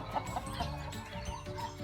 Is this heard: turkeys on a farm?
yes